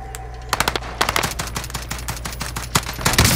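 Player's weapon in a shooter video game fires in rapid automatic bursts, loud and close, with sharp, dense repeated shots across the whole stretch.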